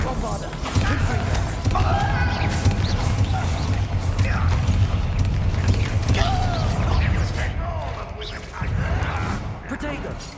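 Bombarda and Confringo blasting spells explode in combat in the video game Hogwarts Legacy, a dense, continuous clatter of impacts and crashing booms mixed with loud game action and voices.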